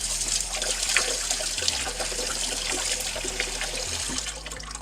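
Rinse water is poured out of a container after washing acorn squash seeds, a continuous close gushing pour with a low hum beneath, steady for a few seconds.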